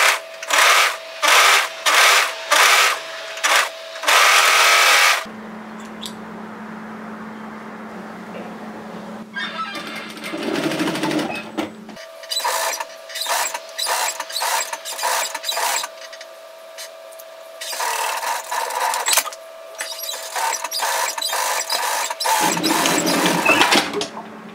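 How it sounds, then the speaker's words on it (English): A domestic sewing machine securing then plain-stitching the edge of a knitted sweater sleeve, running in repeated short loud bursts with pauses between, and a softer hum and handling noises in the gaps. "I'm just going to secure the edge of that sleeve and then plain stitch it on my plain sewer"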